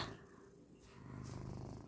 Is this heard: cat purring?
yes